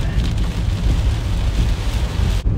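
Steady rain drums on a car's roof and windshield while driving before dawn on a road trip through Bamban, Tarlac, a dense continuous patter over low road rumble, fairly loud throughout with no talking.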